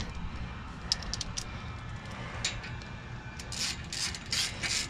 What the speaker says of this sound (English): I'll go ahead and screw these guys in.